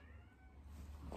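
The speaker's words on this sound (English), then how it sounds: "It's my cat." A house cat gives a single short meow, fairly faint and close indoors, with no talk over it.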